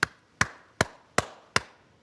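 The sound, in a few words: sperm whale coda, five slow clicks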